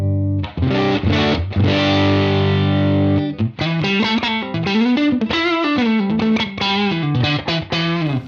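A heavily distorted electric guitar through a UAFX Enigmatic '82 Special overdrive pedal on its rock EQ setting plays sustained chords and then a choppy riff, loud, saturated and gritty throughout.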